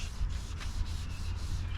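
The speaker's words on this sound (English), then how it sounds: "You want to go ahead and sand your edges while you're hand sanding." A fender edge near the hood of a 2006 Porsche Cayenne is sanded by hand, giving quick, close, rhythmic rasping strokes over a low hum, with no talking.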